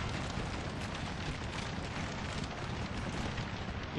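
Artillery fire in the video game Napoleon: Total War, a dense, continuous rumble of distant booming guns at moderate volume.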